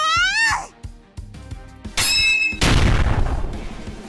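Small explosion of a golem in the video game The Alchemist of Ars, preceded by a rising magical whoosh and dull thuds, then a bright crack and a loud burst that trails into a crackling rumble.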